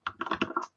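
A quick burst of computer keyboard typing, several close, distinct key clicks in rapid succession over under a second, with no talking.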